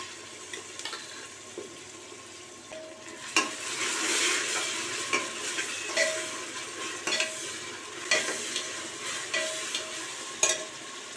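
Onions, green chillies and ginger garlic paste frying in a pan for tomato rice, a steady close sizzle broken by repeated scraping stirs and clinks of a spoon, with no voice.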